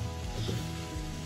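Vegetables sauté in a pan with salt, black pepper and mixed herbs for pasta, a steady close sizzle with a brief stir or scrape in the middle.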